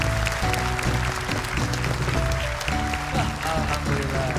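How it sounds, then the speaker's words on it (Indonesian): Applause from a studio audience on the Hafiz Indonesia 2019 Quran recitation show for a young contestant runs under loud, steady music throughout. "Tepuk tangan lebih meriah lagi untuk Naja."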